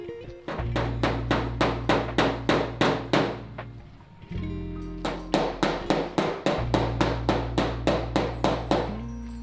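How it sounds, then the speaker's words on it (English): Rapid metallic body hammer taps leveling car sheet metal, two long bursts of evenly spaced ringing strikes with a short pause between, over a low steady machine hum. "we're gonna take a body hammer and give it a couple taps"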